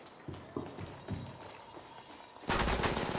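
Enemy gunfire in the Apex Legends Mobile video game: a few scattered shots, then a loud sustained burst of rapid automatic fire at the end, with no talking.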